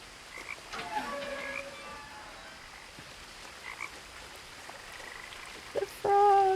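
Frogs croak across an outdoor scene in the video game What Remains of Edith Finch, scattered bursts of throaty calls over a soft ambient bed, with a louder croak close by at the end.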